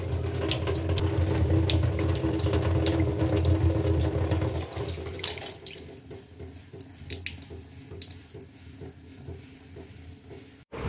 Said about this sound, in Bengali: সমানে দেখো জল পড়ে যাচ্ছে, এ দেখ।